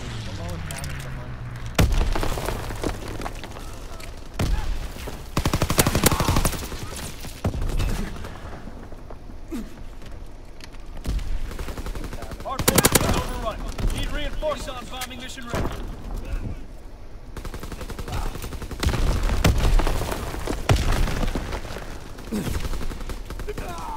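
Machine gun fire rattles in a shooter video game, with repeated bursts of rapid shots and booming impacts scattered throughout, mixed with other game sounds and a person talking over it.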